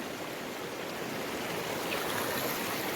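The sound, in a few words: swollen river stream flowing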